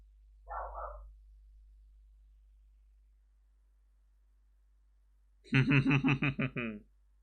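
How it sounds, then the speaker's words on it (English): A dog barks in a quick run of about eight sharp, loud woofs near the end, after a brief muffled sound at the start and several seconds of quiet. "Apologies for my very barky dog today."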